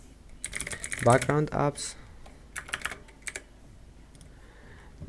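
Someone types on a computer keyboard, a short burst of close clicks as a voice speaks over them, followed by a few scattered keystrokes.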